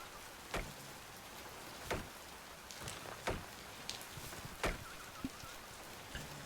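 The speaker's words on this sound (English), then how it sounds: "Stupid rain." Rain falls steadily in the ocean survival game Oceaneers, a soft continuous patter broken by a handful of sharper drip or splash hits, with no one talking.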